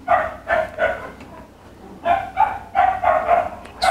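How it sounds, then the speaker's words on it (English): A dog barks repeatedly in bursts, a run of sharp woofs, a short pause, then another volley, fairly close and loud with no talk over it. "I am really distracted with this dog."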